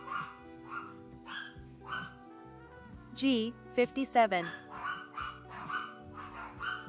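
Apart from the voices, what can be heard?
puppies barking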